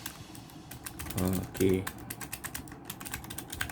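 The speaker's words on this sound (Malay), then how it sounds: "memang keyboard mechanical ni memang bising bunyi dia" Keys clatter on a Keychron K3 mechanical keyboard in a steady stream of sharp, close clicks, with a brief spoken word partway through.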